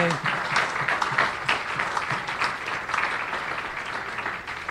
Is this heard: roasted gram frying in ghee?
no